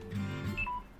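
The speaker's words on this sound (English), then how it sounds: "My phone's complaining." A mobile phone gives a short, faint alert: two brief electronic tones in quick succession, the second lower than the first, over quiet background.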